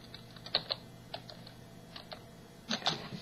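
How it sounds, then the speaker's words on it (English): Repeated keystrokes on a computer keyboard, a few quick clusters of sharp clicks with pauses between them, close and moderately quiet over a faint background hum. "I've typed H like 8 times and just finally put in."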